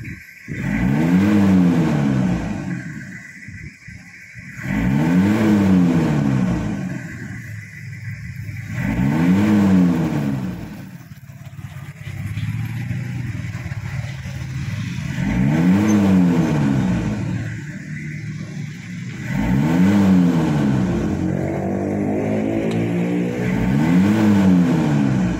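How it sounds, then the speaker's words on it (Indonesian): A 2000 Toyota Kijang LGX diesel engine revving after a tune-up, rising and falling in long surges with idle between, close and loud. "Ini sekarang adalah suara mesin setelah selesai tune up."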